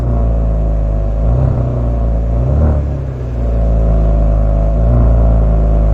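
A 2022 Genesis G70 in Sport Plus mode, exhaust valves open, revs loudly and deeply from close by, its exhaust rumbling in a sustained roar that swells and dips once before rising again.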